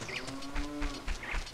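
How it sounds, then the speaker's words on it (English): Cattle low at Lon Lon Ranch in the Zelda video game, a soft drawn-out moo heard behind ambient game music and buzzing insect-like tones. "I hear cows."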